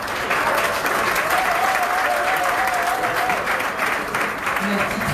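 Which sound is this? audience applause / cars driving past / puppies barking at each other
audience applause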